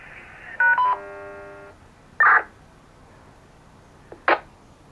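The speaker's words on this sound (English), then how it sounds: "This is a pager test on the backup channel, a pager test only." Fire department pager test tones on the backup radio channel play as a short sequence of clear electronic beeps and tone bursts, separated by pauses over a faint hiss.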